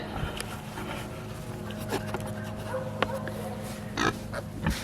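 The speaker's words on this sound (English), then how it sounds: "So here are the little pigs." Small piglets grunt and snuffle in a pen, with low rumbling grunts and a few sharper squeaks over a steady background hum, moderately close.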